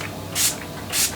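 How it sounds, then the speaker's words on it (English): Two short hissing bursts of Urban Decay All Nighter setting spray, about half a second apart, close and fairly soft, with nothing else audible. "Urban Decay setting spray, my all-nighter setting spray."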